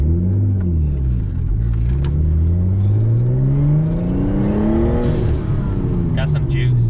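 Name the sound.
Nissan Skyline with stock RB20 engine accelerating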